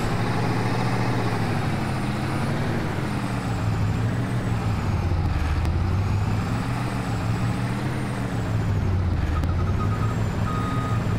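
Steady electronic reversing beeps ring out over the loud, continuous engine drone of a video-game truck backing up, with brief hissing air-brake bursts near the middle and end.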